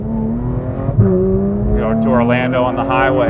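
A Porsche 991 GT3 fitted with Dundon Motorsport exhaust and headers revs hard on a highway drive, engine pitch climbing and falling in loud, close sweeps while someone talks over it.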